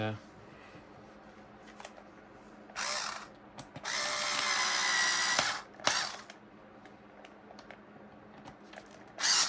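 A 3mm screw is tightened on a multicamera rig, heard as a few loud bursts of buzzing, ratcheting tool noise of varying length, separated by quieter pauses.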